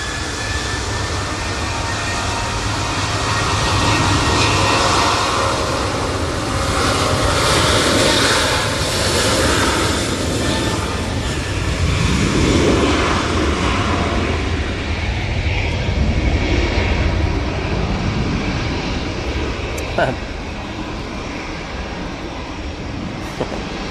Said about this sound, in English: Jet2 now lined up in front of us.